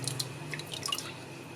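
Aloe vera leaves are washed in a basin of water, producing a short run of light drips and small splashes up close, fading to quiet, with no talk.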